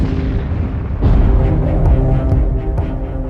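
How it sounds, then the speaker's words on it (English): A deep booming explosion effect accompanies a depiction of a thermonuclear supernova blast, a sudden heavy burst about a second in that rolls on in a long rumbling tail, with a few faint crackles. "from a thermonuclear explosion from fusion"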